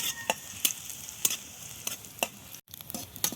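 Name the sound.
onions frying in oil for dal puri filling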